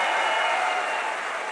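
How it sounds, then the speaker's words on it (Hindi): An audience at a motivational seminar applauds in a short burst of dense, even clapping that fades slightly toward the end, with no voices on top. "एक बार जोरदार तालियों के बीच में कमोना"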